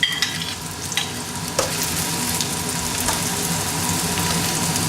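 Chopped onions, garlic and ginger sizzle steadily in a hot pan for upma, a constant close frying hiss with a few brief stirring scrapes and clicks, no voices.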